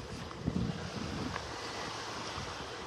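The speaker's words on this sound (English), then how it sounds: "There's that breeze." Steady sea breeze rushing across a beach in North Naples, Florida, with surf washing in underneath, a continuous windy hiss with soft wave texture and no voices.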